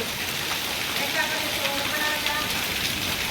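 Steady rain patters on a surface in a dense, continuous hiss, with no voices.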